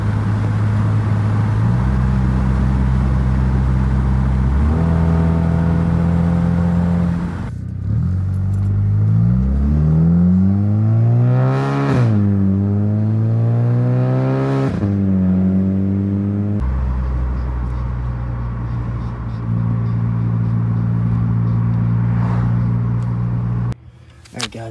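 A Volkswagen MK6 GLI's engine and exhaust idle loudly, then rev up and down in several rising and falling sweeps before settling back to a steady drone, close and powerful.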